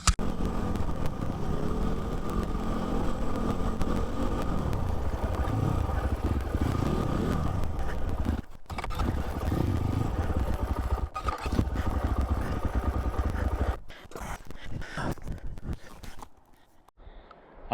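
A motorcycle engine drones steadily while riding up a mountain trail, with brief dropouts and clattering toward the end as the bike slows.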